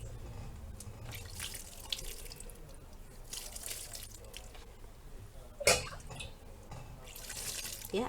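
Water poured onto newly planted onion leeks, a soft, fairly faint splashing and trickling spread through the clip with one brief louder splash near the middle, outdoors with no talking.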